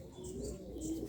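Racing pigeons arriving home at a loft, with soft repeated cooing and a few light chirps over a steady low background, fairly close, no talking.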